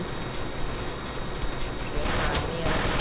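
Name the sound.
gunfire in video game Ace of Spades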